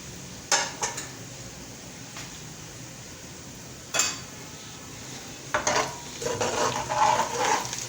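Whole spices including cinnamon being roasted in a pot for jeera rice, a low background sizzle broken by a few sharp metal clinks and scrapes of a spoon, busier toward the end.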